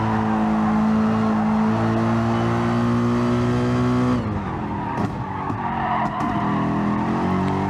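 A Gr.3 race car in GT Sport laps Fuji Speedway with a loud, steady engine drone that holds high, then shifts down as the revs drop, with tire noise, and no talk over it.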